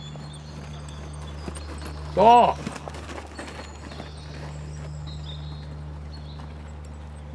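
Horse hooves clopping in a steady walking rhythm while the horse is ridden in dressage training, heard close and clear over a low steady hum, with a single brief spoken word.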